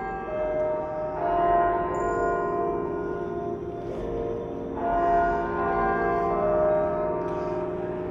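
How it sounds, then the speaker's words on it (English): Bells of the Nottingham Council House in the city centre ring out in a rich, sustained chime, strokes overlapping with long humming decay across about eight seconds, loud and steady with no talking. "So the bell we can hear striking"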